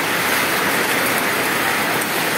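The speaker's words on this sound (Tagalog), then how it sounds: "So, umuulan." Rain pouring steadily at Jariel's Peak, a dense, even hiss of falling water, loud and unbroken, with no voices over it.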